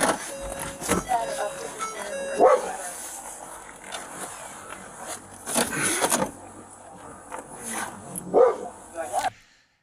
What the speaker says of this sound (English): That sound that you hear is what is known as a fur missile or fur rocket. That's a canine.